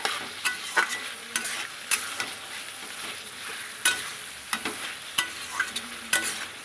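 Chopped tomato fries in a pan with potatoes and radish while cooking shol fish, a low hiss under repeated spatula scrapes and knocks coming at an uneven rhythm.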